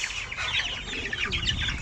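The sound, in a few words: chicks clucking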